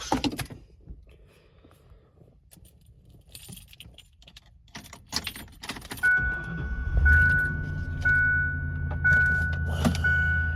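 Keys jangle and clink close by in a door lock, followed by a car door and an engine starting with a steady hum and a faint tone.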